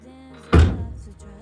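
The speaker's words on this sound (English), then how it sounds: "see the door closes properly now." A classic car door swings shut with a single solid thunk, close and loud, in a quiet workshop with a faint low hum before it.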